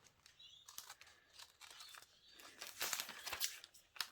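Scissors trimming a plastic page protector for a multi-photo layout, close and crinkly, with irregular snips and rustling crunches that grow busier and louder toward the end.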